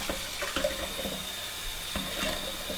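Warm tap water runs into a 4-cup measuring container in a kitchen during fried pie dough preparation, a steady close splashing stream with a few small clinks and no talk.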